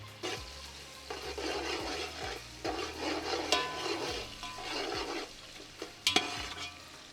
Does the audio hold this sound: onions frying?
yes